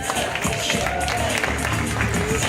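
An audience claps in a steady round of applause, a dense continuous patter of many hands filling the room at moderate loudness, with a faint voice underneath.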